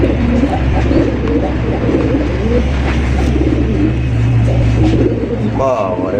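A pair of bright red Bombay pigeons coo in soft, rolling calls that surface among nearby voices, over a constant low rumble in the background.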